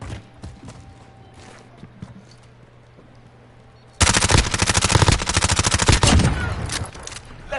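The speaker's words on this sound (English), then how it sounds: "Friendly sentry gun online." In a Modern Warfare match, a sentry gun suddenly opens up halfway through with loud, sustained rapid automatic fire that rattles on steadily, following a quieter stretch of background game noise with scattered distant shots.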